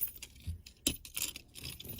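A bunch of car keys jangles close by in a short, irregular burst of metallic clinks and rattles, with one sharper clank in the middle.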